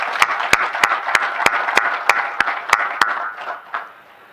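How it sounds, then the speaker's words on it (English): Applause for the Honorable Acting President at an official Zimbabwe government event about humanitarian relief to Mozambique. The crowd claps in crisp, evenly spaced beats, about a dozen in steady unison rhythm, fading at the end. "let us give the Honorable Acting President another round of applause"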